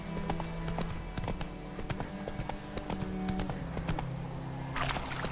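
Geralt's horse Roach trots in The Witcher 3: steady clip-clopping hoofbeats, close and moderately loud, going on throughout over a low background hum.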